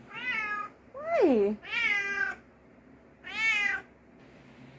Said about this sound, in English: This cat is just meowing at me